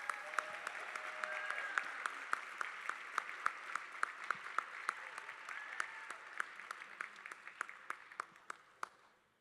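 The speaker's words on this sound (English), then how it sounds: "Let's give our Golden Eagles recipients a big round of applause" Applause at a high school awards assembly for student award recipients, a modest crowd clapping steadily with distinct individual claps standing out near the microphone, tapering off at the end.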